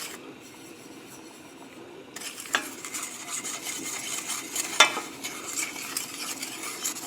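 Sausage penne pasta is scraped and spooned onto a plate, with soft scraping and rubbing, a few light clinks of utensil on dish, and a steady background hiss.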